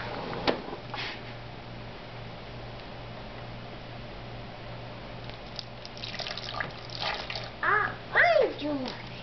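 A homemade smoothie trickles softly as a small girl pours it with her grandmother's help, a faint steady liquid sound with a hum underneath and children's voices rising near the end.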